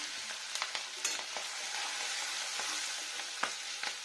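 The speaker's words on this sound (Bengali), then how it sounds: "আর এখানে দিয়ে নেবো কাঁচা লঙ্কার চেরা, এগুলো কম ঝাল আছে। ফ্রাই ফ্রাই ফ্রাই, একটু স্লো টেম্পারেচার" Slit green chillies sizzle in hot oil over low heat, a steady close frying hiss with occasional crackles and spoon scrapes, no voices.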